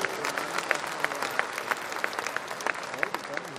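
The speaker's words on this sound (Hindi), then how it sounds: "जोरदार ताली अपने लिए बजाइए आप।" An audience at the Moral Kumbh event in Patna applauds in a steady, moderately distant wash of clapping, with sharper individual claps popping out above the crowd noise throughout.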